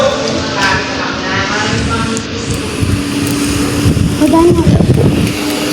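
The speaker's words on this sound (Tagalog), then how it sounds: "Lakas ng hangin." Strong wind from Typhoon Opong blows with a loud, steady rumbling roar and buffeting gusts near the microphone, while a person talks over it.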